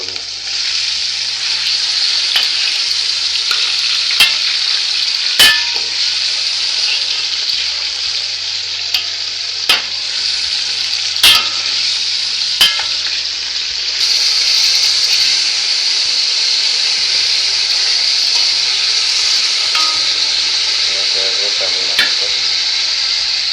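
Pieces of beef sizzle steadily in a pot for a beef and potato stew, a continuous close frying hiss with occasional clinks from stirring.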